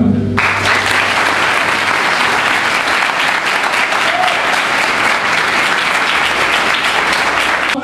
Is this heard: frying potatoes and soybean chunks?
no